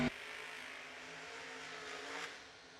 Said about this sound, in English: And I hear the fueler. Here it comes.